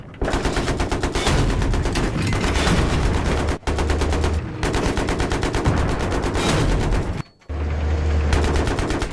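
Sustained rapid automatic gunfire from an M1 Abrams tank in Battlefield 3, loud and continuous with dense bursts broken by two brief pauses, heavy low rumble beneath the rattling shots, no talk over it.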